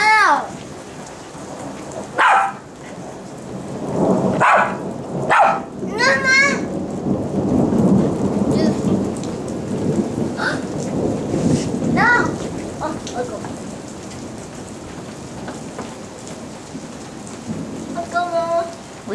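A thunderstorm with heavy rain pours steadily on surfaces while thunder rolls and rumbles through, and children's and adults' voices chatter and call out over the downpour.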